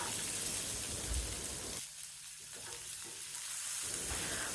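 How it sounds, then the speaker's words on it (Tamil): Chopped vegetables and urad dal sauté in a pan with a dense, close sizzle and stirring scrapes, briefly dipping quieter in the middle before the full hiss returns, with no voices. "உளுந்தம்பருப்பு இந்த அளவுக்கு செவந்ததுக்கப்புறம் காயெல்லாம் சேர்த்து வதக்கணும்."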